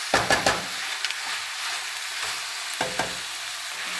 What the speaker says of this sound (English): So we've got a little bit of browning happening there now.